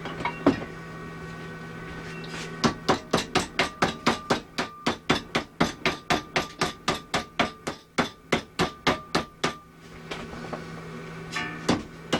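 Metal clamped in a vise being hammered to finish a bend: about thirty sharp, ringing blows in a steady, fast rhythm, close and loud, with a few isolated strikes before and after.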